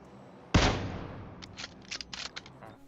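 A single sharp, loud gunshot from the mobile shooter PUBG Mobile lands a headshot, followed by a few fainter, clipped in-game clicks and small bursts. No talking.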